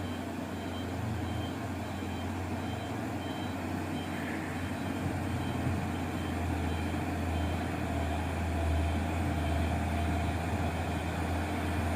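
A white Hino 500 dump truck with its engine rumbling steadily and close by, a continuous low drone that swells slightly toward the end.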